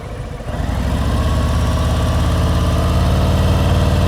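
A motorcycle engine revved on the throttle with no clutch during slow-speed riding practice: a loud, steady, close engine drone that swells up after half a second and then holds level.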